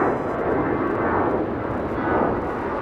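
Boeing 777 jet airliner departing Los Angeles for Tokyo Narita from the southern runway, a steady, loud roar of jet engines filling the whole stretch without breaks.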